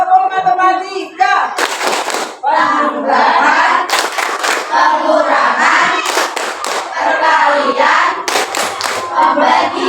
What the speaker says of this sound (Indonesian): Ayo kita tepuk lagi.